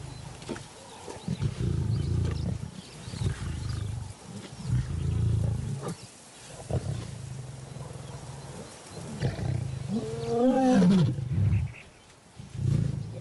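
Lions roar in the wild, a lioness apart from her pride as an intruding male nears: repeated deep, rumbling grunts rise in rhythmic bursts, loud and close, with a strained, wavering call late in the sequence and no talk.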